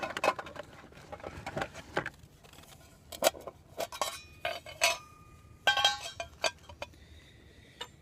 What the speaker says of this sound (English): So I'm going to get my char tin out.